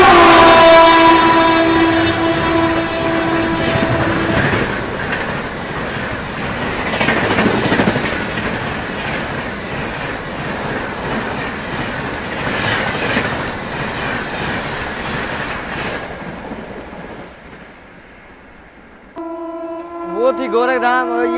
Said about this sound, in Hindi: वो थी गोरखधाम और ये है प्रयागराज एक्सप्रेस